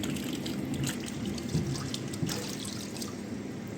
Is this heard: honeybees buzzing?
no